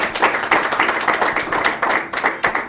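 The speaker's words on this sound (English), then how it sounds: "please give the panelists a hand of applause" Audience applauding panelists at an economic policy discussion, a steady patter of many hands clapping close up with slight swells and dips, no voices over it.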